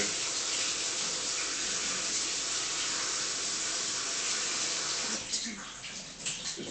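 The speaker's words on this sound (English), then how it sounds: "I'm going to run some cold water over these just to" Cold tap water runs steadily over cooked potatoes and green beans draining in a colander, a close, continuous hissing splash that breaks up and sputters near the end.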